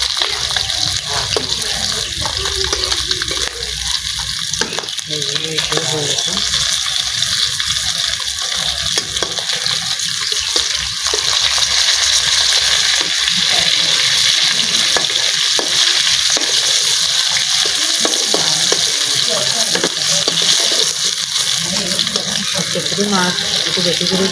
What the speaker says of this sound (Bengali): লাল লাল করে ভাজবেন ভালো লাগে